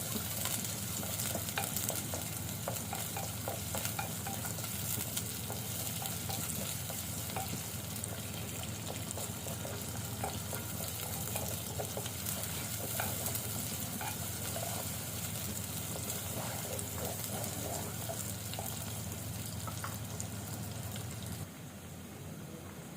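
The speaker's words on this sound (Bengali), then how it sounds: "পেঁয়াজটা ভাজা হয়েছে" Onion fries in oil until crisp and browned, a continuous close sizzle with occasional stirring scrapes, quiet and steady, dropping slightly in level near the end.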